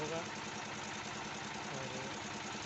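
A homemade engine fitted with a nozzle on the piston runs steadily at high revs, a dense continuous mechanical roar with a rapid, even pulse that stays loud throughout.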